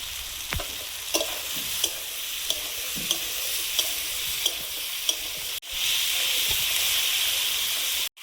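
Capsicum, tomato, turmeric and cumin powder sizzle in a hot pan as a spatula scrapes and stirs, with sharp periodic clacks over the steady frying hiss, which swells louder near the end.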